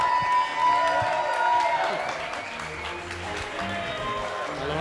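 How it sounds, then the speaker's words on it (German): Fans applaud and cheer at a Formula 1 German Grand Prix fan event, a dense crowd noise with clapping and occasional whoops, while an announcer's voice and other talk run over it throughout. "Applaus, kommt!"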